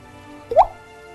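A single close drip falls from a leaking roof, a short wet plop that stands alone against a quiet background.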